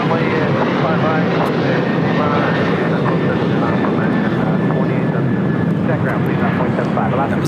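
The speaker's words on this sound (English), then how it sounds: "That was Delta Airlines 1875 taking off to San Jose del Cabo, a 737-900ER." A Delta Airlines Boeing 737-900ER takes off at LAX, a loud continuous jet engine roar with a rising whine, while voices talk over it throughout.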